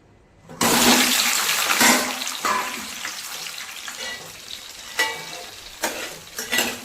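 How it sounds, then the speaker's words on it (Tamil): Eggplant hits hot oil with a sudden loud sizzle, then keeps hissing and crackling as it's stirred, with a few sharper spatters. "கத்திரிக்காவை எண்ணெயிலே நல்லா வதக்கிக்கலாங்க"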